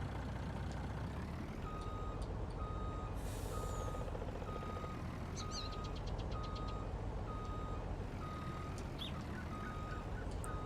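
A logging truck hauling a long trailer reverses in Farming Simulator 19, its steady backup beeper repeating at an even pace over a constant diesel engine rumble, with short air-brake hisses and a few metallic clicks.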